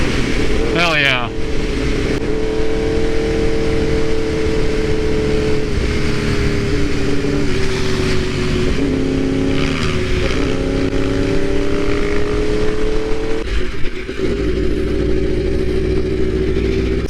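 A 2015 Yamaha R1 motorcycle with a 200-horsepower engine runs hard during a ride, its steady droning engine note rising and falling slightly, continuous and loud against rushing wind noise.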